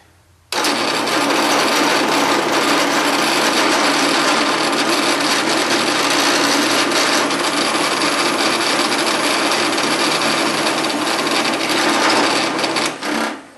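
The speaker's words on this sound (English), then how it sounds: "I'm going to use this Forstner bit" A drill with a Forstner bit grinds loudly and continuously through wood for over ten seconds, starting abruptly and slowing briefly just before stopping.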